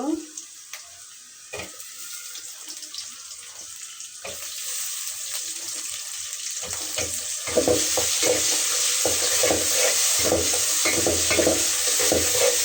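Prawns fry with onions in a pan: faint scattered clatter at first, then a rising hiss and crackling sizzle that grows louder and steadier, with no clear talking.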